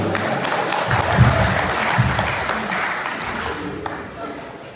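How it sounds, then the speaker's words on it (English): Steady crowd applause from the audience at a university event, fairly even throughout and slowly fading near the end. "Clap for me now."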